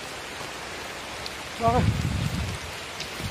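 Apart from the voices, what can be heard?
heavy rain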